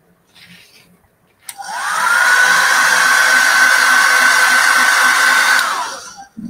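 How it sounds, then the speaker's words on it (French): Hair dryer blowing steadily over a freshly made Christmas bauble craft, a loud continuous whoosh that starts abruptly after a brief quiet pause and runs for several seconds before cutting off. "je reste au-dessus avec le sèche-cheveux"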